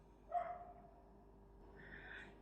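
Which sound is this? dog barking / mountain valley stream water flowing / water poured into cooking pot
dog barking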